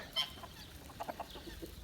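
A rooster clucks softly in a few short, low calls, fairly close, against quiet farmyard background.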